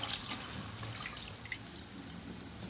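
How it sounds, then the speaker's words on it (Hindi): Rice is rinsed by hand in a pot of water for beef pulao, with soft continuous swishing, trickling and dripping close by. "पानी डालना है हमने इसमें और हाथ की मदद से अच्छे से चावलों में हाथ मारते रहना"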